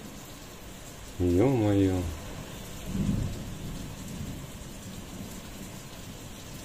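Rain falling steadily outdoors with a rumble of thunder, after a hot day of hilling potatoes; a person briefly exclaims early on while the wet wash continues beneath.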